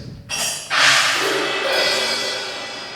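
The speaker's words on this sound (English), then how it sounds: "And there's some cymbals," Cymbals in a school concert band setting struck and left ringing, a bright wash that swells after a soft first hit and sustains, fading slowly over a few seconds.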